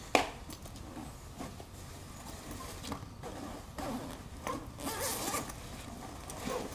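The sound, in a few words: unzipping a backpack zipper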